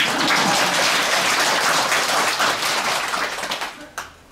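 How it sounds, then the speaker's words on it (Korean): A congregation at a Buddhist temple dharma service claps together, a dense loud burst of applause that tapers off into a few scattered final claps before falling quiet. "저 뱀띠, 집에 있는 뱀띠들 위해서 박수 한번 쳐주세요."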